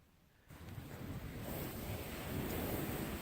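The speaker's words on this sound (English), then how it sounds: "Hear that? The wind?" Wind roaring on a Cape Cod beach at night during a blizzard, a steady loud rushing that swells after a quiet start and stays constant.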